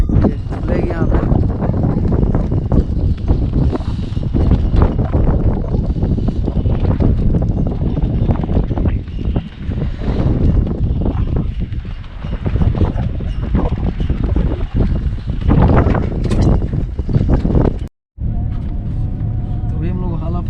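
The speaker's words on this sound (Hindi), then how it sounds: "तेज हवा चलेगी यहाँ पे।" Strong wind outdoors in Leh, Ladakh, roaring and buffeting the microphone in a loud, continuous rush that surges and eases for about twenty seconds, cut by one brief dropout near the end.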